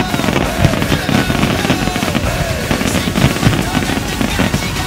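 A grand-finale fireworks display at the Patras carnival closing ceremony in 2014 crackles and pops loudly and densely, with rapid bursts overlapping for the whole stretch.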